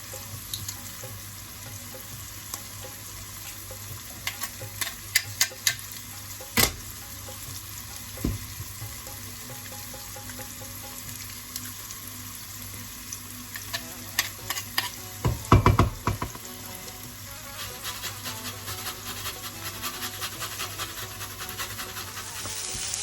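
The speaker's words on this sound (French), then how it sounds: "On mélange bien les oignons, l'ail et le gingembre." Onions, garlic and grated ginger fry in oil for a chicken korma, with a soft continuous sizzle broken by scattered stirring clacks of a utensil against the pan, louder around the middle, without talk.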